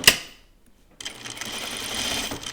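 A sewing machine runs steadily along a caftan dress seam for about a second and a half, close and moderately loud, with no talking, after a short click and a second of near silence.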